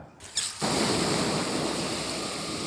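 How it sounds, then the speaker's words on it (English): Water sprayed onto a Dakota fire hole dug with a tactical survival shovel, a sudden hissing rush that starts after a brief pause and then holds as a steady, close spray. "I'm gonna just bring water and spray."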